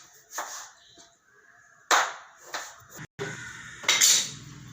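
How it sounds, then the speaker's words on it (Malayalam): A knife chops tomatoes into small pieces on a board, producing a handful of separate, close knocks at an uneven pace with quiet gaps between them. "കുഞ്ഞു കുഞ്ഞായിട്ട് എത്രയും ചെറുതായിട്ട് അരിയണം"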